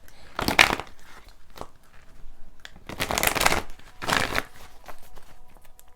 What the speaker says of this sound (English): I'm going to pull a animal card for y'all.